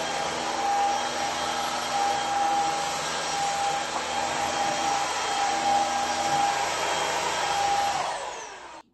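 A Kissof S17 cordless stick vacuum cleaner runs with a steady, loud motor whine and airflow hiss, holding constant for about eight seconds before switching off and spinning down.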